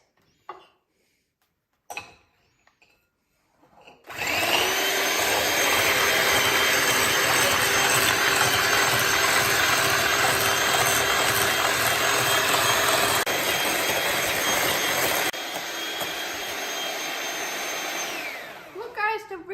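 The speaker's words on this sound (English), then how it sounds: "Next, I'm going to beat it." Electric hand mixer whipping heavy cream for homemade ice cream, switching on after a few soft knocks and running loud and steady for about fifteen seconds before dropping to a lower speed.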